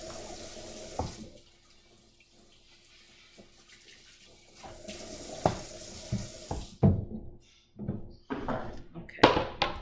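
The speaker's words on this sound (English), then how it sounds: "I need to rinse this off. All the scales drive me nuts." Tap water pours and splashes while fresh salmon is rinsed of its scales in a sink: a steady stream at first, then a quieter stretch, then irregular splashes and gushes close by.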